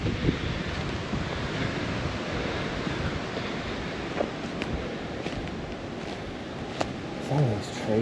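Wind gusting across a snowy ridge on a homestead, a constant rough roar buffeting the microphone at close range, with brief faint knocks and a voice now and then.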